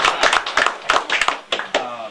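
Light, uneven clapping from a modest audience at a political event, a few sharp claps spread over two seconds with voices talking over them.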